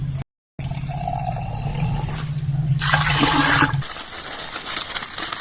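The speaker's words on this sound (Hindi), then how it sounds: "दो गिलास पानी डालेंगे इसमें।" Water pouring into a pressure cooker holding cleaned lentils for haleem, a steady splashing rush rising for a few seconds before tapering off, close and fairly loud.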